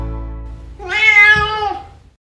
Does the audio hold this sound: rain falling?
no